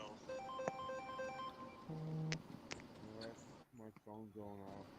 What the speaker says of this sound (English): My phone's going off.